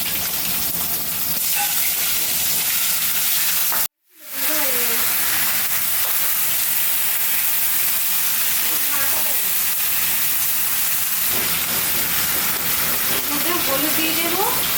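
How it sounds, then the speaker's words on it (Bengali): Panch phoron, bay leaf and dried red chili tempering in hot oil for a Bengali hilsa dish, a loud continuous sizzle and hiss with one brief dropout near the start before the crackle resumes. "এর মধ্যে পাঁচফোড়ন আর তেজপাতা আর শুকনো লঙ্কা ফোড়ন আছে, এটা ফোড়ন দিয়ে দেবো"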